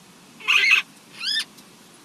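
A Great Green Macaw chick, about three to four weeks old, gives two short, harsh, raspy calls about half a second apart, close and fairly loud against a quiet background, with no talking.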